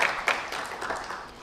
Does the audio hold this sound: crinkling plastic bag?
no